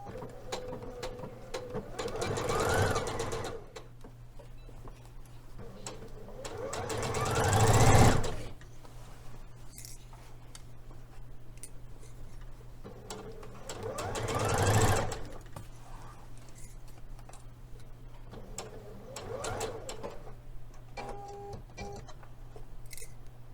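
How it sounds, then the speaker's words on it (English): A sewing machine backstitching a seam on a Liberty London Florence palazzo suit, close whirring runs in several bursts that swell and fade, separated by quieter pauses with faint clicks. "So let's back stitch at the beginning and the end."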